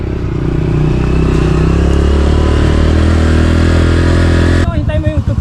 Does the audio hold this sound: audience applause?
no